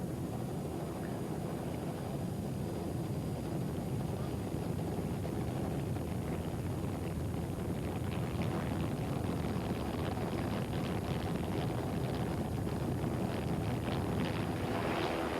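Offshore racing powerboats run at speed through rough seas in the 1993 Venice to Monte Carlo race: a steady, distant roar of engines and wind with washing water noise, and no talking.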